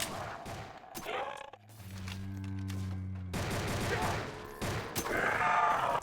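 A Ranger gun is reloaded in the Roblox game Project Lazarus. Mechanical clicks and clacks come at intervals among bursts of gunfire and a sustained tonal drone.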